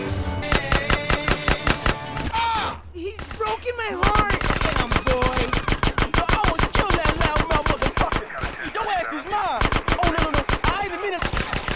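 Video game gunfire rattles in long, rapid automatic bursts, loud and close, with a brief lull before the firing resumes steadily.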